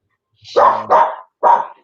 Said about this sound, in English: Sorry, my dogs are going psychotic again.